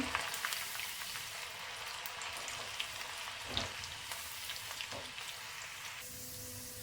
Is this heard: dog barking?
no